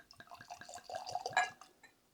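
Rye whisky poured into a Glencairn glass, a run of close, small glugging and trickling liquid sounds building to a brief splashier peak before tapering off, with no talk.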